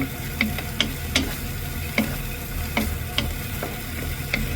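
Tomato sautéing with green onion in a pan: a continuous close sizzle broken by regular scraping stirs, roughly two or three strokes a second, with no voices.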